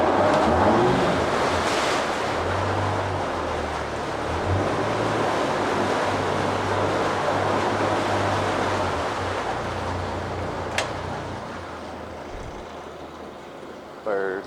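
A 2022 Yamaha VF115LA 1.8L VMAX SHO outboard boat motor runs at steady idle on the water, a low droning hum with wind and wave noise, fading near the end and then stopping.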